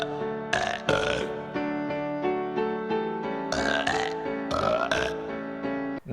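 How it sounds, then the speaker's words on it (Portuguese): Long, drawn-out burps, loud and close, follow one another in a burp contest after drinking a big bottle of cola, with several strong bursts and sustained croaking tones and no speech. "Eu e os amigos nós compramos um litrão de coca e fizemos um campeonato de arroteamento."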